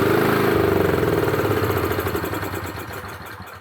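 A Honda GX240 generator engine with a starting problem runs loud and close with a rough, pulsing putter, then slows and fades as it begins to die out.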